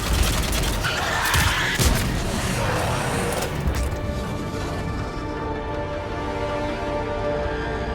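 Mass Effect 3 combat with sustained heavy gunfire and booming impacts, dense and loud in the first half before easing into a ringing, rumbling aftermath.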